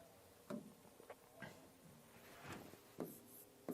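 Pen or chalk writing during a maths lesson, a series of faint, short scratching strokes in an irregular rhythm, close by and quiet, without speech.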